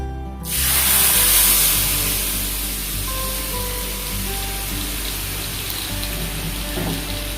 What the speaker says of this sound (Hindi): अब मैंने जो दाल उबाला था ये दाल मैं इस पे डाल दूंगा